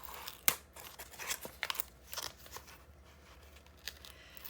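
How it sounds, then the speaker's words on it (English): Tape peeled off a paper-craft Christmas mini album panel, giving short crackling, tearing strips in a few quick bursts, close and fairly quiet, with no talking. "So now I am taking the rest of the tape off."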